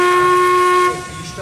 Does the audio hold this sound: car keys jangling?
no